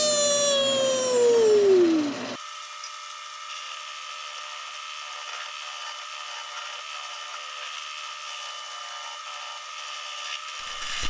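A wooden honey pot bowl spins on a lathe while a gouge cuts it. A rising and falling whistle comes first, then a steady, close scraping hum of the cut that runs on without pause.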